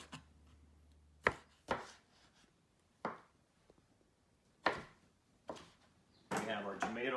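A knife quarters cherry tomatoes on a cutting board with a handful of sharp, separate chops spaced about a second apart, close and fairly quiet, followed by a brief louder stretch at the end.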